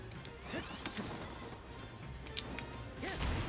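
Crates and boxes smashing in the action game Hyrule Warriors: Age of Calamity, with repeated whacks and crashes over busy game sounds and a swish near the end, fairly quiet in the mix.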